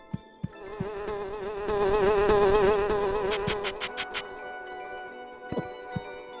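Loud mosquitoes whine in The Grinch video game, a close droning buzz that rises and wavers for a few seconds, then cuts off among sharp clicks and light thumps.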